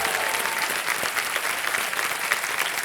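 A studio audience on the quiz show Kaun Banega Crorepati claps together in a dense, continuous burst of applause that stays loud and even for the whole stretch.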